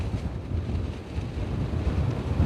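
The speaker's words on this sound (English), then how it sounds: "How bad is it with those wind gusts coming off of the ocean?" Strong wind gusts blowing in off the ocean at Kitty Hawk, roaring and buffeting a nearby microphone in a dense, continuous rush, with surf likely mixed underneath.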